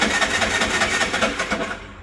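A Bajaj RE auto-rickshaw's starter motor cranks after its relay is shorted, giving a rapid, even whirring churn with pulsing beats that runs for about two seconds before cutting off.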